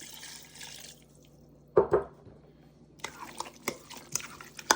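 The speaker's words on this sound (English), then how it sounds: "So I'm going to pour some more in there." Lime juice is poured over chunks of fresh-caught lingcod for Costa Rican ceviche, a quiet trickle followed by short liquid splashes and faint drips.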